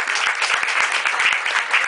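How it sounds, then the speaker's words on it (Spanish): An audience applauds at a live folk music concert, a dense, steady wash of clapping hands from a crowd, loud and continuous without talk. "Un aplauso para el maestro del sonido"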